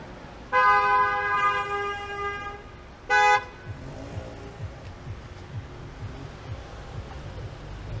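Street traffic on Eglinton Avenue in Toronto: a car horn blares for over two seconds, then a second short honk, followed by a low rumble of passing vehicles.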